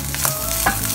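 Chopped bacon fries in rapeseed oil in a pan, giving a steady close sizzle with faint crackles and a couple of soft scrapes.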